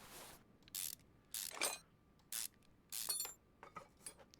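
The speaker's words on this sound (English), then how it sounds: "So let's take the brake caliper off." Removing a brake caliper in Car Mechanic Simulator 2021 video game: quiet bursts of ratcheting wrench clicks, several short spurts with gaps between them, close and faint.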